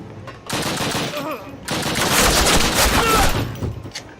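Heavy automatic gunfire from a Call of Duty video game roars in two long, dense bursts close and loud, with brief game voice fragments mixed into the barrage.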